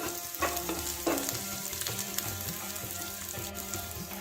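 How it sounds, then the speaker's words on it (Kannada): Curry leaves and green chillies sizzle steadily in hot oil in a pan for a banana stem dish, a continuous close crackling fry with a few sharper pops. "ಸ್ವಲ್ಪ ಕರಿಬೇವು ಸೊಪ್ಪು, ಹಸಿಮೆಣಸಿನಕಾಯಿ, ಸ್ವಲ್ಪ ಒಂದು ಅರ್ಧ ನಿಮಿಷ ಫ್ರೈ ಮಾಡ್ಕೊಳ್ಳಿ"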